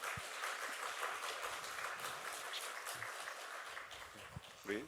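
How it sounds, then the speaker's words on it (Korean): Church congregation clapping warmly for scholarship students of a nursing and medical college as they bow during a Sunday worship service, a steady, moderately distant wash of applause lasting throughout. "우리 교인분들은 우리 학생들에게 큰 따뜻한 위로의 박수를"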